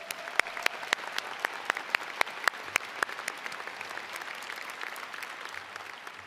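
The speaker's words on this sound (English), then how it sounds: "Could we get another round of applause for these individuals," Audience applause at a 2023 high school commencement ceremony, a dense wash of clapping with sharp individual claps standing out near the start, gradually thinning and fading over several seconds.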